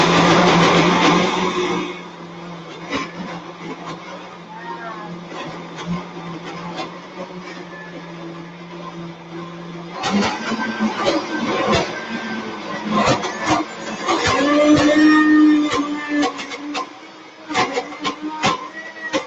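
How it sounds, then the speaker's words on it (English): A blender runs loud and steady, blending banana, chocolate and avocado into pudding. It whirs for about two seconds, cuts out, and kicks back on after a pause, with clattering and motor surges over the second run. "I'm going to turn on the blender"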